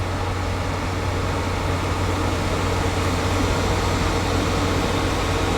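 Dyson Hot & Cool formaldehyde air purifier blowing air out of the back, a steady, fairly loud broadband whoosh that stays constant throughout with no talk.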